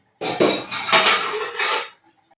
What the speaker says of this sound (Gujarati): જેટલી જલ્દી થઈ શકે એટલું જલ્દી ફટાફટ વાસણ ધોવાઈ જાય તો સારું